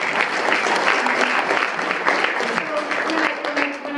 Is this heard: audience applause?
yes